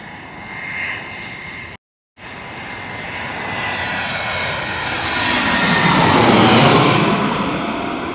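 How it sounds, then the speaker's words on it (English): A Delta Airlines Airbus A320 arriving from Atlanta passes over Queens with a rising jet roar, broken by a brief dropout early on, then building to a loud, close peak near the end. "Delta Airlines Airbus A320 coming on in from Atlanta, Georgia"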